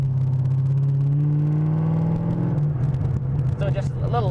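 A Corvette C6 engine hums steadily from inside the cabin, with a low drone and rising whine as the car drives along the road.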